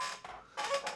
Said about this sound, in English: Is this chair squeaky as hell?